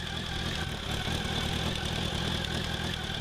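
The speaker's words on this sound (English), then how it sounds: "The Ariel's Square 4." An Ariel Square Four 1000cc motorcycle engine idles steadily, a constant low mechanical rumble with a fine clattering texture, close and unbroken throughout.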